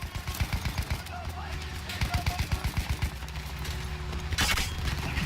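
Rapid bursts of gunfire crackle in quick repeated volleys over a musical soundtrack in the video game Battlefield 1, with a louder blast near the end.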